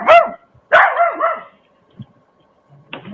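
A pet dog barks nearby, two loud sharp barks followed by softer yips and a final bark, with quiet pauses between.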